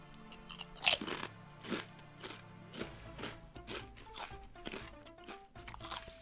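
Potato chips crunched and chewed close to the mic, with a loud sharp bite early on followed by a steady series of crisp crunches and softer chewing.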